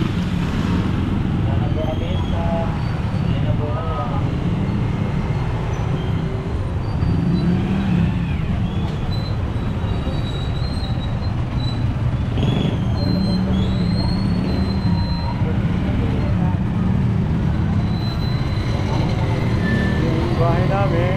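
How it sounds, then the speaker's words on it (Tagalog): Busy Friday street traffic on Burgos Street, with cars, engines and passing vehicles rumbling steadily nearby and occasional horn-like tones and squeals, while people talk throughout. "Ganyan ka-traffic dito pag Friday."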